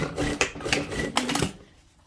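Sewing machine stitching a replacement zipper into jeans, a short burst of quick rhythmic mechanical clacking, close and fairly loud, then slowing and stopping.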